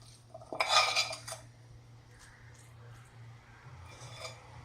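A burst of metal spoon clattering against a pot as prawn roast is scooped into a bowl, followed by softer scraping and quiet clinks.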